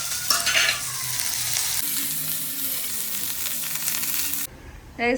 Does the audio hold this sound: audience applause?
no